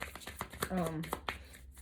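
A deck of tarot cards is riffled in one short burst of fluttering snaps amid scattered handling taps, with a voice faintly present. The cards lack a glossy finish and are stiff to shuffle.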